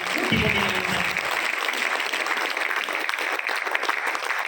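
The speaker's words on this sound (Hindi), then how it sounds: "पहली बार आरटीपी में सेशन मिला है तो सबसे पहले मैं जोरदार तालियां और धन्यवाद चाहूंगा मेरे महागुरु संजय जी शर्मा के लिए" Audience applause at a marketing seminar session, a steady, dense wash of clapping from a large room that stays even and loud throughout, with a brief low voice near the start.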